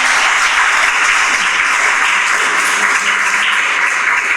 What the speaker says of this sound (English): Can we get a round of applause for them for just coming up here tonight?